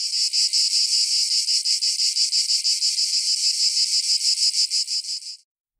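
Cicadas singing in a loud, high, shrill buzz pulsing in a fast regular rhythm for several seconds before cutting off abruptly.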